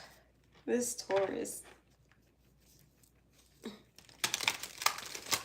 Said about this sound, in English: Oop, that was a bad shuffle.